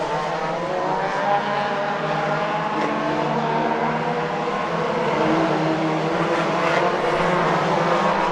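National Hot Rod race cars at Hednesford Hills Raceway roar steadily into a turn, a dense continuous engine drone from several cars at once, loud and unbroken, with no talk.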